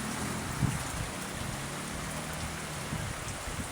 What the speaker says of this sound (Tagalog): may bagyo yata ah